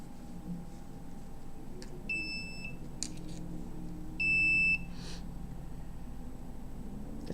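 Two short electronic alarm beeps, each a thin steady tone lasting about half a second, sound two seconds apart over a faint constant background hiss in a quiet apartment.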